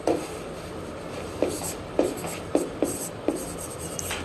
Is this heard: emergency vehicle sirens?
no